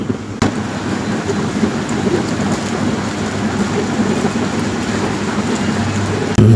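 Heavy morning rain pours down in a dense, loud, unbroken wash, with one sharp knock near the start and no voices.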